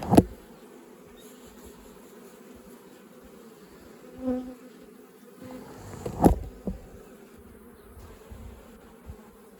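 Honey bees hum steadily around an open hive while a brood frame with capped cells is lifted out, with a low continuous buzz and a few louder passes close by.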